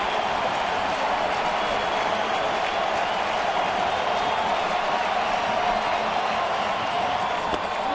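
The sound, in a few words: baseball stadium crowd cheering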